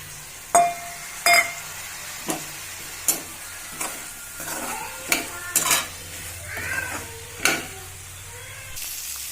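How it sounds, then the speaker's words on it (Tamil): Broad beans and brinjal sautéing in a pan with tomato bring repeated sharp clanks of a spoon against the metal pan over a quiet low sizzle, the strokes spaced irregularly and close. "அவரைக்காய், கத்திரிக்காய், இது ரெண்டையும் நம்ம இதில் சேர்த்து நல்லா வதக்கிடலாம்"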